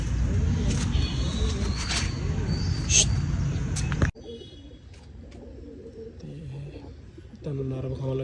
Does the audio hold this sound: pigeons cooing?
yes